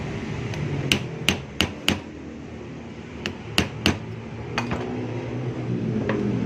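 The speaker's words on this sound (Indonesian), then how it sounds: "nanti susah masukin kuncian, jadi digedor dulu dikit gini tuh" Copper winding of a Hayward pump motor coil being tapped down with a bamboo stick: sharp, woody knocks in small groups of three or four, close and clear over a steady background hum.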